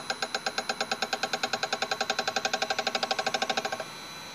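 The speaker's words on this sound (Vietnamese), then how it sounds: "động cơ mình đang khởi động cùng chiều kia đồng hồ" An electric motor driven by a Fuji inverter starts up and runs clockwise, making a rapid, steady, pulsing mechanical whir that cuts off abruptly near the end.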